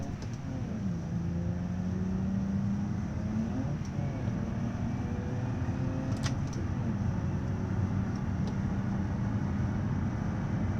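A truck in a driving video game, steered with a wheel and pedals, sounds as a continuous engine drone with slowly rising and falling tones and a few faint clicks, no voices heard.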